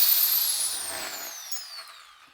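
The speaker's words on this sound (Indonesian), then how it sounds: "Itu yang bor." An electric drill winds down after running, its high whine sliding steadily lower in pitch and fading over about two seconds, close and alone.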